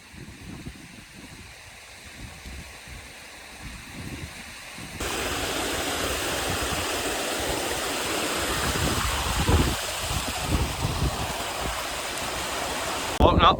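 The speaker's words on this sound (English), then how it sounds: "We've just made it to this stream junction here, flowing down from the Bialach" A mountain stream flows at a junction below a bealach in the Scottish highlands in wild weather, a broad rushing hiss that starts softer and then jumps louder and fuller, with wind-like noise throughout.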